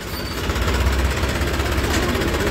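A tractor engine runs close by with a loud, rapid low-pitched chugging throb and steady vibration, continuous with no talking.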